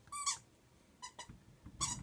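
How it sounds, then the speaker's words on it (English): A puppy chews a squeak toy, producing three sharp, high squeaks spaced across the moment, faint and close with quiet background between them. "I'd rather have her chew on that squeak toy than any of my shoes or clothes"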